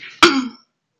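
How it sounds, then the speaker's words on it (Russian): A single close throat-clearing cough, one short harsh burst that trails off within half a second, alone with no talk around it. "Простите, кашлю. Горло першит."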